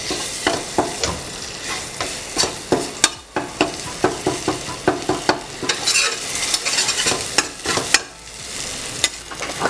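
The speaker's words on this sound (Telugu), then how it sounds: "ఇది హీట్ అయిపోయిన తర్వాత మనం డైరెక్ట్గా దీంట్లో కొద్దిగా అల్లం వెల్లుల్లి పేస్ట్" Ginger garlic paste frying in hot oil for egg kothu parotta, stirred steadily in the pan: a loud, continuous sizzle broken by rapid, rhythmic scraping strokes close up, with no voices.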